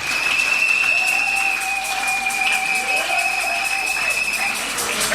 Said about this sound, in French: Vamos aplaudir para ele.